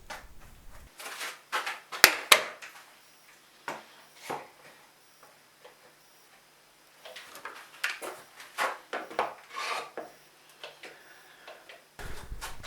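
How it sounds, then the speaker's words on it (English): A chisel chopping out an inlay pocket in a guitar build, sharp woody taps and clicks in irregular bursts close by, with quiet pauses between. "And the first step in this process is just to take a chisel"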